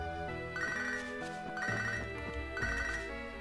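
A cell phone ringtone jingle in Pokémon HeartGold chimes in three repeating bursts about a second apart, loud and close over layered game music.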